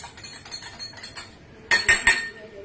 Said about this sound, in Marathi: हे मी आर्थोची पावडर मिक्स करतोय आणि ही गोळी मिक्स करतोय